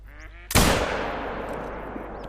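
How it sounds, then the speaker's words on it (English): A single loud gunshot fires in the hunting video game Call of the Wild while ducks fly overhead, its sharp crack trailing into a long decaying echo over faint bird calls and low background noise. "See if we can hit a few ducks while they're flying."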